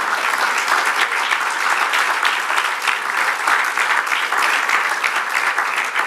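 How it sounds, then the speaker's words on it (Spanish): A church congregation claps loudly and steadily, a dense wall of applause that holds at an even level throughout, with no single voice standing out. "Dale el aplauso grande."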